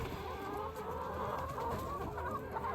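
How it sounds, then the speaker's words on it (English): Chickens cluck steadily on open pasture, a busy flock heard close and continuous with no talking over it. "It's always a good day when you get to get the chickens out on pasture for the first time for the season,"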